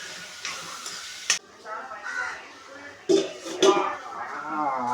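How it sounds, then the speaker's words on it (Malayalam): Onions wilting in a pan with rock salt, a soft continuous sizzle broken by several sharp clinks and scrapes of a utensil against the pan, with faint background noise. "ഇതെല്ലാം സാധനം നമ്മൾ സവാള വാട്ടാനായിട്ട് വെച്ചിട്ടുണ്ടായിരുന്നു."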